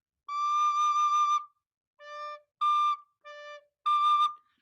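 Sustained high recorder tones, one long held note then four shorter notes alternating between high D and low D, clear and alone with silence between.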